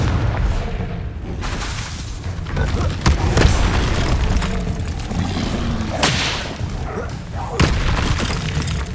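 Confringo spell blast in Hogwarts Legacy, loud booming bursts with shattering crackle over dense game noise, a few sharp impacts punctuating a continuous roar.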